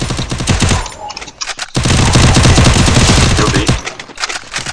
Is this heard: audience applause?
no